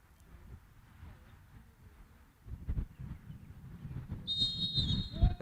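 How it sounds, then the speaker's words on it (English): A referee's whistle signals kickoff at a Concacaf Women's Under-17 qualifier between Jamaica and Guyana in Oranjestad: one shrill, sustained blast near the end, rising over low crowd murmur and a commentator's voice. "And there is the whistle, and we are off."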